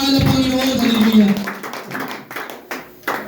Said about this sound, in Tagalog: Palakpak po sa ating mahal na Panginoon, hallelujah.